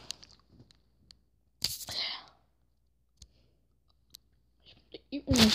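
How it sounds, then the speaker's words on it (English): Close, quiet mouth sounds of candy being chewed: scattered soft clicks and smacks, with a longer burst of crunching and a final louder chomp, no talk. "that chewing"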